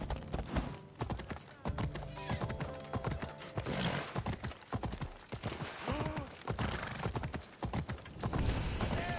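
A horse gallops in the video game Assassin's Creed Odyssey, a close, rapid, rhythmic clip-clop of hooves with occasional whinnies and snorts over game ambience.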